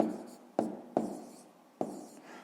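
Pen or chalk marks written by hand while working out a column addition of 432 plus 780, a few sharp scratchy taps spaced irregularly over faint room hiss.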